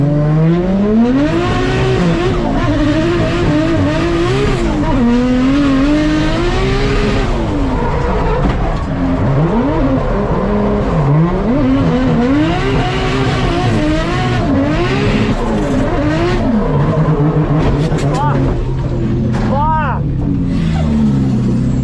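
Drift cars battle side by side at a competition, engines revving and wailing loudly with sweeping pitch changes while tires squeal continuously; a commentator talks over the constant roar.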